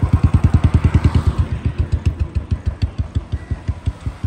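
A Royal Enfield Bullet motorcycle idles up close with a strong, regular thump-thump beat that loosens and softens a little partway through. The engine sounds alone, without talking.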